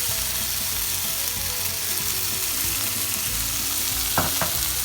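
Food sizzles and fries steadily in a pan while groundnut powder is stirred in, with a constant crackling hiss and a couple of sharp utensil knocks near the end.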